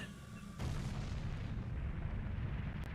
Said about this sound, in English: That explosion was louder than my pants!